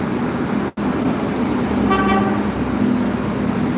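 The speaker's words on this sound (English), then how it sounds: "I got this loud truck in front of me." Heavy truck idling or rumbling directly ahead in roadway traffic, a loud steady low drone filling the whole stretch, with a brief horn-like toot partway through.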